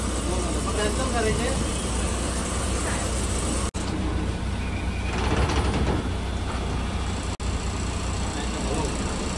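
A Maharashtra ST bus pulling out of the Mumbai Central depot, with a loud engine rumble and mechanical rattling inside the cabin, heard under nearby talk.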